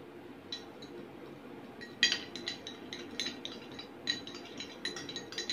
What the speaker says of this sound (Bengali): এবার দইটাকে ভালো করে একটু ফেটিয়ে নেব